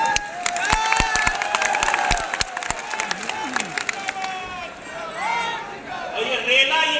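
A large crowd cheers and shouts at a Nishad Party national convention, a dense roar of many voices, with sharp claps and whistles up close that stay loud throughout.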